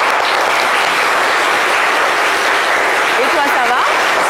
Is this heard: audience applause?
yes